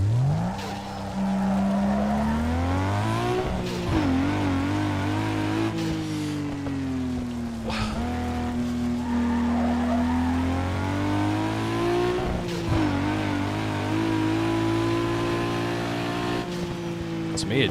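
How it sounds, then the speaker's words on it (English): Car engine revving hard with tires skidding in the racing video game Need For Speed Underground 2; a loud, continuous drone rises and falls in pitch, with a few sharp bursts along the way. "Funny engine sounds let people know their car is powerful."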